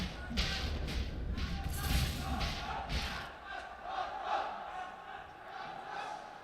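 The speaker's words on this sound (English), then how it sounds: "The crowd going crazy over here. The crowd actually going nuts here." A large arena crowd roars and cheers during the OG vs TAG final match at an esports tournament. Dense, sustained noise with sharper bursts of shouting comes through in the first half, then settles to a steadier crowd murmur.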